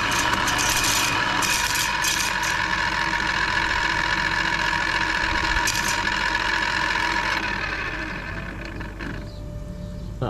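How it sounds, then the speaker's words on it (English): A JBL Pond Pro automatic fish feeder's disc spins at an outdoor koi pond, making a steady mechanical motor whir. The whir runs continuously, then eases and quietens near the end. "So that's the disc spinning round, and then it'll drop some food."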